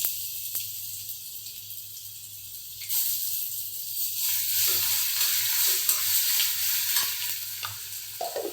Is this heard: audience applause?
no